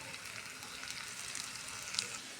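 Tomato tipped into onions that have browned to pink in hot oil with curry leaves and chilli paste, a steady close sizzle and crackle of frying with a few brief spattering pops, no voices, for a spiced potato curry.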